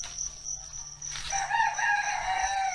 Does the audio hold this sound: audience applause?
no